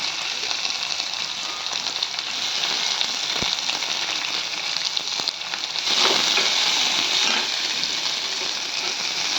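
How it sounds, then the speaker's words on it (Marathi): Onion dropped into hot oil with curry leaves and chili for a tempered leftover-rice dish gives a loud, continuous frying hiss. A sudden surge of sizzle comes midway, with occasional faint knocks and no talking. "त्यामध्ये मी आता कांदा टाकते आहे"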